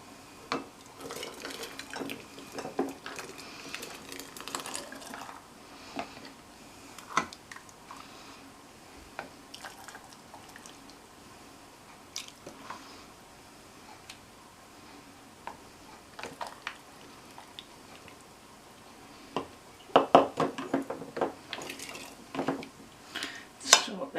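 Clinks and taps of a ladle and glass canning jars being filled with pea and ham soup, scattered and fairly quiet, with a louder cluster of clatter toward the end.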